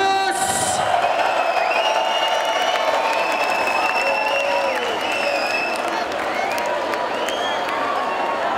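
A large crowd at a DJ event applauds and cheers steadily, a dense roar of clapping and shouts that holds for the whole stretch, with a brief sharp burst near the start.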